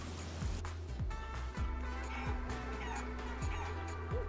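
A video game chicken in a luchador mask, from Guacamelee, gives a series of short clucks and squawks over game music and sound effects.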